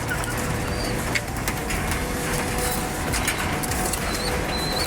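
Pet pigeons with their chick give soft cooing calls and light rustling, steady and fairly quiet against a constant background hiss, with no talking.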